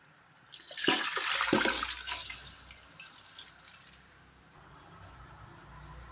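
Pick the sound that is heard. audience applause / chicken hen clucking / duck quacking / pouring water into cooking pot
pouring water into cooking pot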